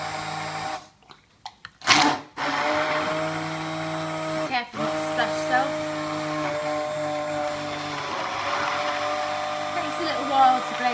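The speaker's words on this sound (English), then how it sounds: "I've just got a hand blender here." A hand blender whirs through mushroom soup in a pot, starting in short stuttering pulses and then running steadily with a droning motor whine and some sloshing. Blending is close and fills the clip.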